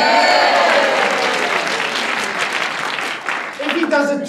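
Live audience applause fills the room as a dense, continuous wash of clapping that fades slightly, with a voice emerging near the end.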